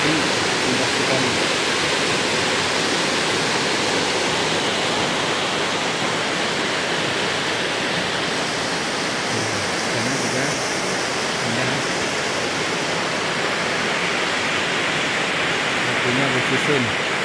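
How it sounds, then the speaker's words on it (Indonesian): Kuwieng waterfall in Padang Tiji sends out a constant, full-bodied rush of falling water, loud and unbroken from start to finish, with faint murmurs now and then beneath it. "Ini air terjun untuk Kiwing."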